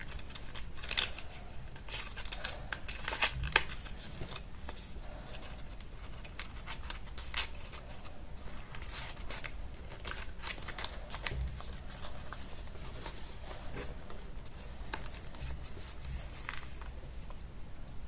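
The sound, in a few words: folding origami paper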